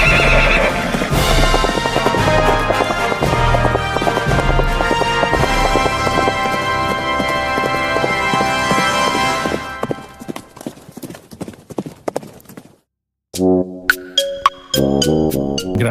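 A ridden horse breaks into a gallop, its hooves clip-clopping rapidly with a neigh, all loud and mixed with music and a few ringtone-like chimes near the end.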